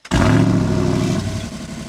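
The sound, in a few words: Jeep Wrangler Rubicon 392 exhaust, loud mode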